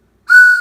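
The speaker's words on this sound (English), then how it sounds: "Yeah, you hear its whistle." A single steady whistle tone starts abruptly, holds for about half a second and then fades, loud and close with no talking over it.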